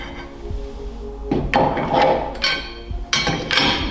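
Metal crowbar striking and prying against car suspension parts in a garage, a few sharp clanks and knocks with scraping between them, close and fairly loud.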